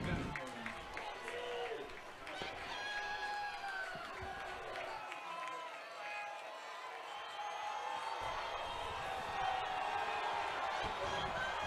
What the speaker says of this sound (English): Crowd getting into it here at Millard South.